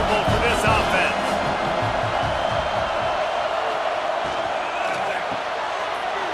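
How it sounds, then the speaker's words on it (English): A college football stadium crowd at a Boston College versus Michigan State game roars in a loud, sustained wash of noise with scattered cheers, while a commentator talks over it. "This crowd trying to make life miserable for this offense."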